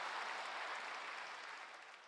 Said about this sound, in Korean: 미가엘 성가대 찬양을 위해서 격려하면서 한번 박수 더